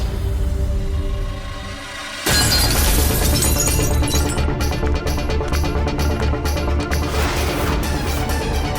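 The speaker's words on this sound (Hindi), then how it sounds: "सुजाता, ये शीशा कैसे टूटा?" Glass shatters with a sudden loud crash partway through a tense scene in a Hindi TV drama, after a quiet stretch. Broken shards keep tinkling and clattering for several seconds afterward.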